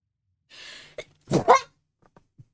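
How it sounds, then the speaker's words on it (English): A single sharp sneeze from a man, preceded by a hissing inhale and followed by a few faint mouth clicks and a small breath, close and otherwise quiet. "I'm gonna sneeze again, by the way."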